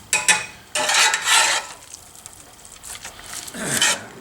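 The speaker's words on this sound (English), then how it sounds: "So we're just going to cook this until it browns over medium-high heat." Ground beef with chopped onions and celery cooking in a pan over medium-high heat, heard as intermittent scraping and stirring strokes with light sizzle, close and fairly loud, with no talking.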